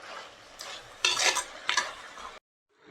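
Pallipalayam chicken with coconut, Erode style, is stirred in a hot pan. Scraping spoon strokes come in bursts over a continuous sizzle of frying, close up, then the sound cuts off abruptly.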